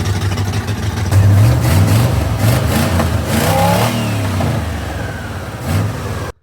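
Turbocharged Oldsmobile Cutlass with a hood-exit turbo and no muffler revs hard, a loud, close rough engine roar that rises and holds, with faint turbo whistle sweeps and a final blip.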